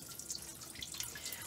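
Wet handspun yarn is lifted from a sink of wash water, and water drips and trickles back down in uneven splashes and droplets, close and fairly quiet.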